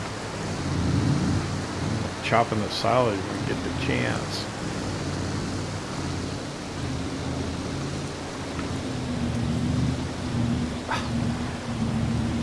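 Steady rain with a low rolling rumble of thunder in Farming Simulator 22 on an Ohio farm, a continuous wash under a voice talking over it.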